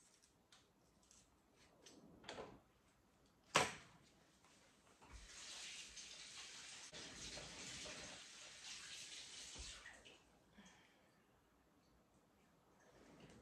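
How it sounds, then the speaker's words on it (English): Tap water runs steadily into a kitchen sink as a peeled root vegetable is rinsed, a sustained wash of water with a sharp knock partway through and softer handling sounds around it; no talking. "So I'm going to rinse it off after I peel just a little bit more off"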